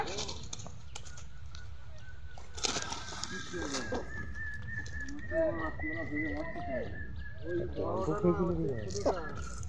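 Birds call repeatedly beside a pond where people are fishing at Bighati in Bhadreswar, their honking, clucking notes rising near and clear in a cluster toward the end, mixed with outdoor talk.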